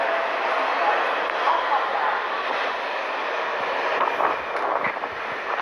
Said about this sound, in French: le 4654 arrive en gare